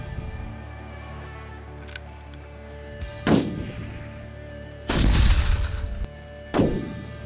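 Rifle shots fired outdoors at a steel target about 510 yards away in light wind: three sharp, loud reports spaced a second or two apart, the middle one trailing a longer rumbling echo.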